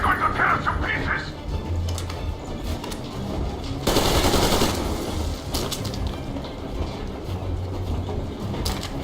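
Heavy gunfire in the Metro Exodus game, with rattling automatic bursts over a rumbling, clattering background and a loud blast partway through; shouted voices mix in at times.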